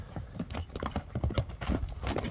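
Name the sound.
horse walking, hooves clip-clopping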